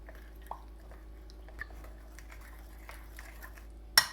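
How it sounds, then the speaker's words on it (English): Spoon stirring pancake batter of water, flour and lemon juice in a bowl, soft scattered clinks and wet scraping taps at irregular intervals, close and quiet, ending with a louder knock. "We're going to stir it up."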